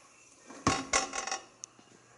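Cooked steak set onto a plate with a few close, sharp clinks and scrapes of utensils against the dish, clustered in a short burst, then a single light tap before quiet.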